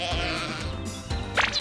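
A sheep gives a short bleat near the end, following a stretch of cartoonish music and background sound.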